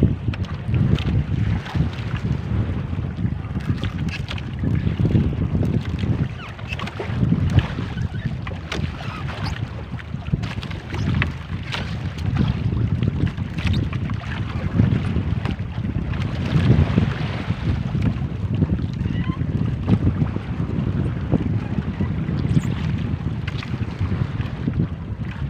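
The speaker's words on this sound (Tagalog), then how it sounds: "Malakas lagi ng hangin." Strong wind buffets the microphone with a continuous roaring rumble, loud and unbroken, with water and boat noise mixed in.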